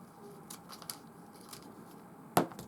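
Scissors snip through a paper craft piece in one crisp, close cut near the end, after a few faint earlier handling sounds, without any speech.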